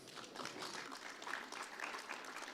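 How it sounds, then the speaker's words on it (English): Applause from a conference audience at a wine trade event in Paris welcoming a speaker, a steady dense patter of many hands at moderate distance, fairly quiet, lasting throughout with no talk. "Let's give him a round of applause."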